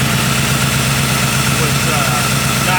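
Engine of a 1940 Ford Tudor Sedan Deluxe idling after carburetor, vacuum leak and plug repairs, a loud steady close rumble with an even low throb throughout.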